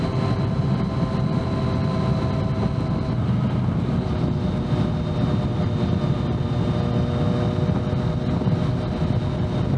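A motorcycle cruises along at a steady pace, its engine a constant low drone beneath heavy wind roar that stays unchanging and loud throughout, with no talk.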